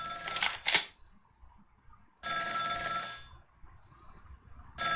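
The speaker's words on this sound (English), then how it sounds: "Ring, ring. You got a phone call" A telephone rings in the video game Ghost Trick: Phantom Detective, loud electronic bell bursts separated by short silences, two full rings and the start of a third.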